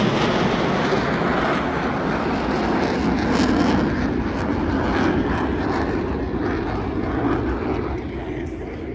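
A Blue Angels jet formation roars past at an air show, a loud broadband engine rush that fills the whole stretch, swelling slightly in the middle and fading a little toward the end, with no talk over it.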